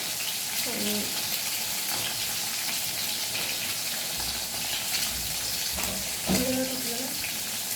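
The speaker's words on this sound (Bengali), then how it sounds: "এইদিকে পটল ভাজা মিক্সটা আর একদিকে ইলিশ মাছ ভাজা মিক্সটা" Pointed gourd and hilsa fish frying side by side in oil, a steady broadband sizzle filling the whole stretch with brief stirring clatters and faint voices in the background.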